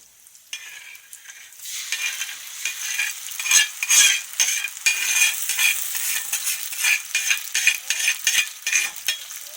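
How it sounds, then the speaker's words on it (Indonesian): Ground spice paste stirred into a hot pan of wilted aromatics and cinnamon for Acehnese white prawn curry, sizzling steadily with repeated scraping stirs that grow louder after the first seconds, close and without talk. "Setelah layu, kita masukkan bumbu yang sudah dihaluskan."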